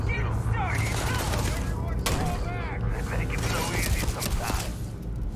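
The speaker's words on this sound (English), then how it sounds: "Who's shooting me?" Rapid gunfire from the video game Starfield crackles continuously in dense bursts, mixed with sci-fi effects and a voice talking over it.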